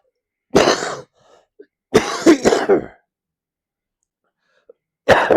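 Coughing from a teacher during a class, three separate bursts of harsh throat-clearing coughs, the middle one a quick double, close and loud with silence between them.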